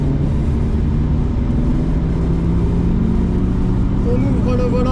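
A Porsche Targa accelerating on the Dijon-Prenois circuit, a loud continuous engine drone heard from inside the car with rising pitch toward the end.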